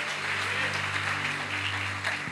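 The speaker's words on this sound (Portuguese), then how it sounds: "Se é para aplaudir, aplaude, irmão." An audience at a church sermon applauds in a continuous dense wash of clapping over a low electrical hum, moderately loud and unbroken, cutting off at the end.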